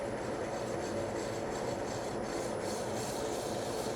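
A wooden jar lid spins on a lathe slowed to about 500 rpm while 240-grit sandpaper rubs against it, giving a steady, close, continuous rasping hiss throughout with no pauses.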